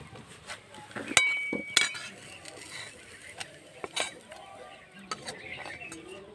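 Spoon stirring egg paratha filling in a pan, scattered clinks and scrapes of metal against the pan, close and moderately quiet, with a few sharper knocks as it is moved off the heat.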